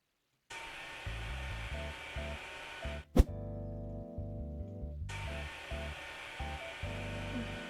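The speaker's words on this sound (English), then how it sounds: "I am pretty sure we've sanded that thing as nicely as it can be possibly sanded." Steady abrasive whirring of a power sander working a wooden piece during a house renovation, running continuously with a brief sharp knock and a short pause partway, then resuming.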